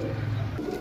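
A pigeon, a female sold as one of a breeding pair, gives a short low coo close by, alone and steady over its brief length.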